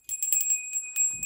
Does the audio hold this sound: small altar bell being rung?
yes